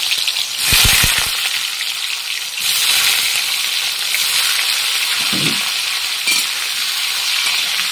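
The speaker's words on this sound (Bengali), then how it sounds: "এখন আমি গরম তেলের ভিতরে পনিরগুলো ছেড়ে দেবো, হালকা হালকা করে একটু ভেজে নেব।" Pieces of paneer drop into hot oil in a wok and set off loud, bright sizzling. Sharp bursts flare up as more pieces go in, then a steady hiss continues throughout.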